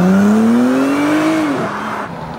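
A 2017 Acura NSX, rebuilt after a wreck, accelerating hard on a test drive: a loud, close engine note rising steadily in pitch, then dropping at a gear shift and fading slightly.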